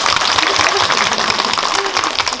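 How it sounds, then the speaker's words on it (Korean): A cinema audience at a Netflix 'Weak Hero Class 1' homecoming screening event at CGV Yongsan gives loud, dense, sustained applause and cheering that fills the room without a break. "여러분 큰 박수 부탁드립니다."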